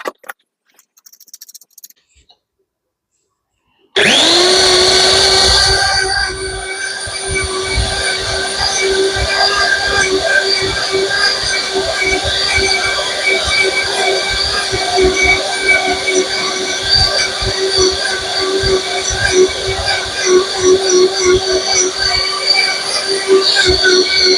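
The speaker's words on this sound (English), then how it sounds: "So I'm going to see what it does in this blender" A blender grinds dried ingredients into flour, starting abruptly after a few seconds of quiet and then running as a loud, steady, high-pitched whine with a rough grinding texture for about twenty seconds.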